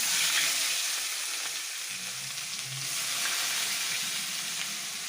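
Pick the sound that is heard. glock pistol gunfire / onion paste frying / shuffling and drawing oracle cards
onion paste frying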